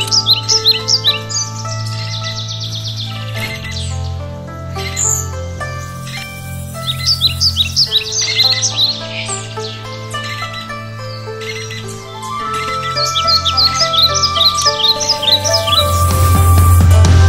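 A crowd of woodpeckers and other colourful birds call close by, a busy chorus of rapid chirps and tweets repeating in bursts over low tonal background sounds, with a loud rumble rising at the end.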